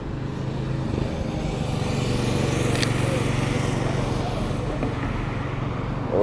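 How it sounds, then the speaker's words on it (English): A motorcycle passes along a road amid traffic, its engine drone with a steady low tone running the whole time, a car also audible, and a voice speaking over it. "Oh, we gotta follow the motorcycle."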